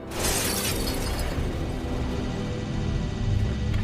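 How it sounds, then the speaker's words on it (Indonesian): Glass shatters loudly as a gunshot hits it in the film Don't Breathe (2016), a sharp crashing burst followed by a sustained wash of breaking debris and rumble. "si kakek ini melepas tembakannya. Dan beruntungnya hanya mengenai kaca yang menahan si Alex"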